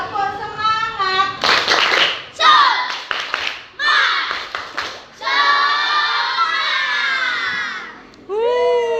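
A group of children joins in a tepuk semangat rhythmic clapping game, with bursts of hand claps alternating with loud chanted and shouted voices, close and lively.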